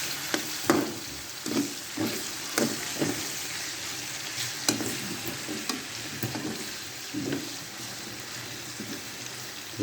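Tocino and hotdogs frying in a pan, a low sizzle broken by repeated spattering pops and occasional stirring scrapes, close and fairly quiet.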